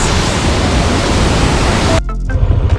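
Bolinao Falls 2, a steady loud roar of rushing waterfall that cuts off abruptly near the end, leaving faint background sound.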